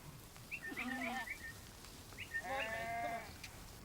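Two bursts of bleating from sheep being herded by a dog toward a farm for shearing, a short call followed by a longer wavering one, heard at moderate distance over faint background noise.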